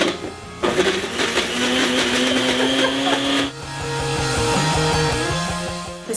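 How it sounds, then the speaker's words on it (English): Blender running on red beets for juice, a loud whirring motor that changes pitch partway through as the load shifts, then keeps churning steadily, with no voices over it. "I did have a blender, and I'm going to show you guys how to do this with the blender."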